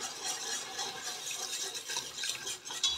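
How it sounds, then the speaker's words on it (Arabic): Milk pouring into a pot over a butter and cornstarch roux, a steady splashing liquid rush lasting the whole stretch, close and continuous with no voices. "نخوي فوق منه الحليب"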